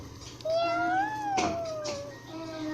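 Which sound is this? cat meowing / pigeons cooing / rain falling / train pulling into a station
cat meowing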